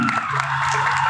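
Crowd noise at a Balinese Calonarang performance at Pura Desa lan Puseh in Tegalalang, a dense wash of cheering and clapping that stays steady and fairly loud throughout.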